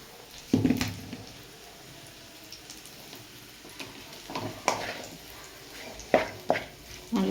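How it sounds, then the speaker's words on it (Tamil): Chicken fried rice is stirred and fried in a pan at home, with a low continuous sizzle under intermittent scraping and clinking of the spoon against the pan, the louder strokes coming in irregular bursts. "வதக்கணும் வதக்கணும் வதக்கிட்டு சாதம் சாதம் கொட்டி கிளறணும்"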